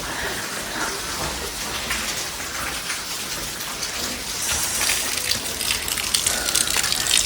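Steady rain pours down at Changu Narayan temple in Nepal, a dense continuous hiss of drops on surfaces that grows slightly louder toward the end, with no voices.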